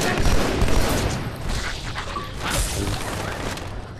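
Gunfire in Halo: The Master Chief Collection crackles in dense, rapid bursts with booming impacts, loud and continuous across the short stretch, with no talking over it.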